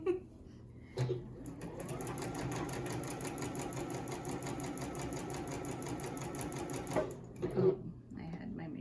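A home sewing machine runs steadily for about six seconds while stitching a fabric face mask, its rapid mechanical whir continuous and close, with brief pauses and handling noises at the start and end.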